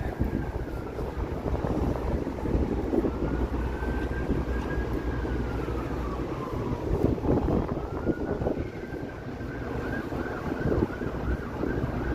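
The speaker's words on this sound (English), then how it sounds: "Comes that wind." Gusty wind blowing outdoors on a Toronto street, a steady loud rushing roar that fills the whole stretch, with a faint siren wailing in the distance under it.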